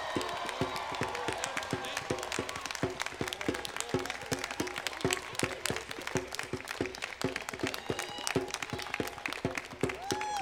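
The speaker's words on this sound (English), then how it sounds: "Let's give all of our graduates one more round of applause" A convocation audience gives graduates a sustained round of applause, steady crowd clapping with scattered cheers and whoops throughout, while voices murmur underneath.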